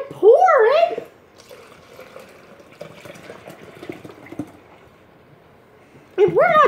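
Liquid is poured steadily for several seconds as a soft, continuous splashing stream, with a voice chattering just before and right after the pour.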